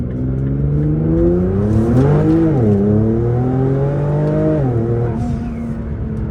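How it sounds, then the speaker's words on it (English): A Nissan R35 GTR facelift engine drones loudly and steadily from inside the car while cornering, its pitch wavering up and down as power is fed in through the turn. "I'm going to try and put the power late on into when I'm turning so that the car doesn't go too sideways."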